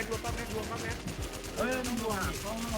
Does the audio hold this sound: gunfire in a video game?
yes